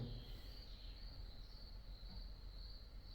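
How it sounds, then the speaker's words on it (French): Steady, high-pitched cricket chirping trills on continuously, a dense insect chorus with no voices and a quiet low rumble beneath. "entendre les grillons"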